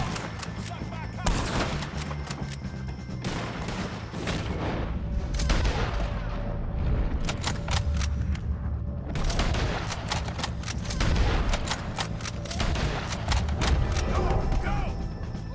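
Rapid gunfire in a Red Dead Redemption 2 shootout with O'Driscolls, dense overlapping rifle and pistol shots, loud and close, continuing in bursts throughout with shouting voices mixed in.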